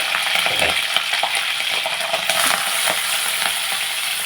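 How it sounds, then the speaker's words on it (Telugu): Oil tempering for a chicken curry sizzles and crackles steadily and fairly close, a dense continuous frying hiss with a few small pops and spoon clinks, no talking. "తాలింపు పెట్టేసాం మనం ఇప్పుడు చికెన్కి ఆయిల్ పోసుకున్నాం"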